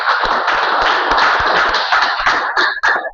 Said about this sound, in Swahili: Simpe Yesu makofi.